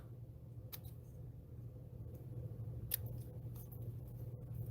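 Scissors snipping the ends of ribbon on a handmade gift-box card, a few quiet crisp cuts standing out over a steady low room hum.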